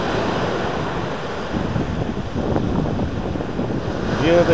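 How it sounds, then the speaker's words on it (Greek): Rough sea waves surge and wash ashore at night during fishing, a steady windy roar of surf close by, with wind buffeting the microphone throughout. "Η θάλασσα βγαίνει έξω για έξω."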